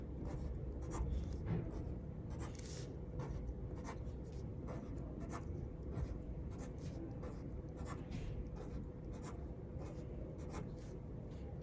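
Pen or marker drawing small hearts on paper, a continuous soft scratching with repeated short strokes over a steady low room hum, close and quiet.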